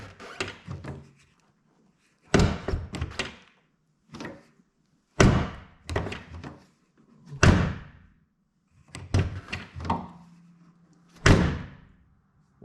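The door of a 2007 Jeep Wrangler with newly installed door bushings is shut again and again, a series of sharp, close slams and thunks with quiet gaps between them.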